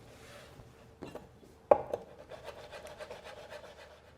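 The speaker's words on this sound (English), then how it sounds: "So I'll get on to chopping away." Irregular knocks and scraping on wood, with a sharp thud followed by a rapid series of quick taps, like a knife chopping on a board nearby.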